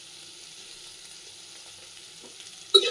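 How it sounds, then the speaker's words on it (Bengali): Chilies sauté in a frying pan with a faint, steady sizzle, ending in a sudden sharp clatter of stirring. "সাথে মরিচগুলো দিয়ে দেবো, সটে করবো।"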